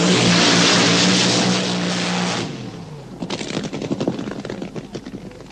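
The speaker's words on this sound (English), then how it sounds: "Owen Hayward burns out and gets ready to race." A drag racing car does a burnout at Santa Pod in 1976, a loud, harsh engine roar that drops off after a couple of seconds into a rapid, crackling idle burble nearby.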